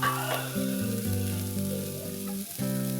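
Green beans with chili stir-fry in a hot pan, a steady oily sizzle with crackles under a droning hum, close and fairly loud, shifting briefly as they are stirred.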